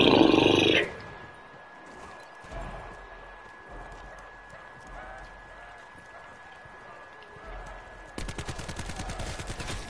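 Video game gunfire: a loud noisy burst at the start, then quieter stretches of scattered thumps and game ambience, ending in a rapid run of automatic shots, with voices talking throughout.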